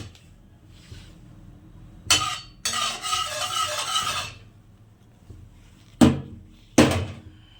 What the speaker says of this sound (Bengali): তো তেলটা একটু গরম হয়ে যাক